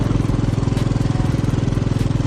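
A motorcycle being ridden, its engine throbbing steadily and close with a fast, even pulse that holds through the whole short stretch, no voices over it.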